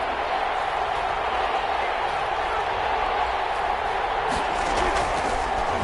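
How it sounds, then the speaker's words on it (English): A stadium crowd in an American football game roars in a continuous, loud wash of cheering, with a brief flurry of clapping near the end. "the crowd getting into it"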